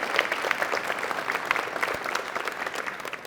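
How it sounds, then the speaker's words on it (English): An audience at a Central Valley school district community event at Ridgeline High School claps steadily for the school board, a dense, even round of applause lasting a few seconds with no break. "So can we have a round of applause for this amazing school board?"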